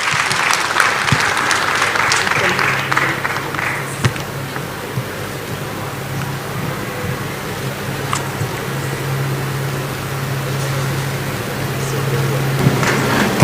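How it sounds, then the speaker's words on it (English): Applause fills a conference hall at an MOU signing between two governments during a tourism resilience event, a steady wash of clapping that fades and lingers over a low background hum. "let's appreciate that moment with beautiful claps marking the MOU signing of the two governments"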